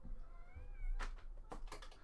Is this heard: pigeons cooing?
no